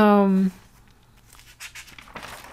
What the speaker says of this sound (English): I'm just kind of turning pages here